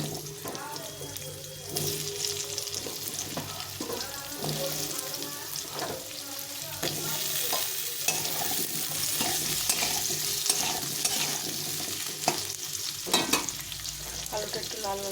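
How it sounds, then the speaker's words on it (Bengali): Potatoes fry in hot oil in a pan, a continuous sizzling hiss broken by repeated scrapes and knocks of a spatula stirring them, close and fairly loud throughout. "আলুটা একটু লাল লাল করে ভেজে নেব।"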